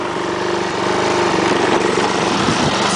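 A homemade "Get Her Done" lawn mower runs steadily and loudly up close, its small engine droning with a constant buzzing rumble throughout, no voices over it.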